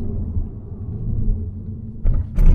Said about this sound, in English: you do feel and hear all the vibrations on the road